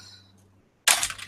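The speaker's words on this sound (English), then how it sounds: "that sound you heard was me putting my glasses on my keyboard" A pair of glasses is set down on a computer keyboard, making one short, sharp clatter up close after a moment of near silence.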